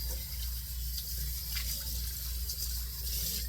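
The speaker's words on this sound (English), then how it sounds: "I do want to rinse out this bowl" Water runs steadily from a tap to rinse out a heavy-duty shaving bowl, a soft continuous splashing that stays quiet and even throughout with no voices.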